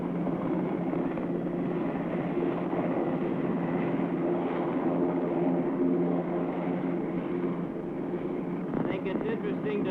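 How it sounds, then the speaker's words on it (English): An AH-56A compound helicopter makes tight left and right turns on the ground, producing a loud, steady, droning engine and rotor roar with a constant whine that holds evenly throughout. "perform tight turns on the ground now, turning to the left, then to the right"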